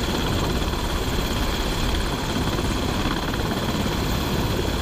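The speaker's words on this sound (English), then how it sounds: "helicopters use powerful cargo hooks to very quickly" A helicopter hovers close and loud during vertical replenishment, carrying cargo on a hook to an aircraft carrier at sea, its rotor and turbine roar forming a dense, steady wash with no voices.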